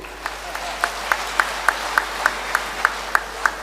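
An audience claps at a live public gathering, a steady rhythmic clap roughly every quarter second over a broad hiss of many hands, moderately loud and continuous.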